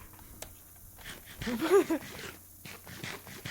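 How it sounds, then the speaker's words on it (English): A guard dog in a video game pants in a short burst of quick breaths, close and fairly loud, amid light background game sounds. "This is my guard dog."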